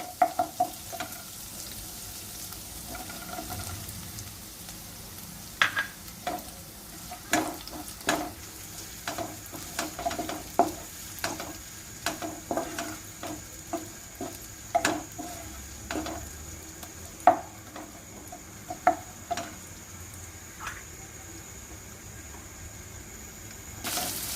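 Sliced onions sizzling in a hot pan for restaurant-style hakka noodles, stirred steadily: a soft, continuous fry with repeated scraping and clinking from the spoon against the pan, close and fairly quiet.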